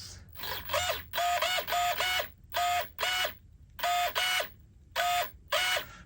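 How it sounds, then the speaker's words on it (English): A Flash Hobby high-torque RC servo sweeps back and forth through its full 180 degrees, heard as about a dozen loud, close, whining motor bursts separated by short silent pauses. "you see he's a full 180 servo. He throws 180."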